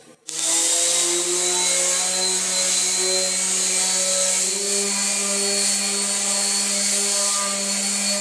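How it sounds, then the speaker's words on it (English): An electric power sander works a scrap-wood clipboard, starting abruptly and running as a loud, steady high-pitched whine with a sustained hum throughout, close by and alone. "the next step in our project is to get this thing sanded"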